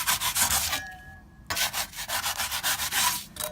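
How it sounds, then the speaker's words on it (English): Cured closed-cell spray foam insulation inside a bus conversion is sanded by hand tool in quick rhythmic rasping strokes, close and fairly quiet, with a brief pause in the middle. "I'm really just more sanding it almost."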